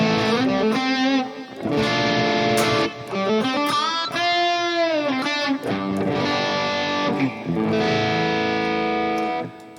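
Electric guitar through a Harley Benton DNAfx Git Pro amp simulator with an Own Hammer impulse response, loud and distorted, with sustained high-gain chords and bending notes playing continuously with no talking.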